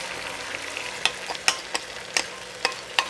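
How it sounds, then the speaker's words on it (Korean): Sauce is poured into a pot of braised chicken drumsticks and sizzles softly, broken by sharp clinks and stirring taps at irregular intervals, heard up close without talk. "이제 소스를 부어줄게요."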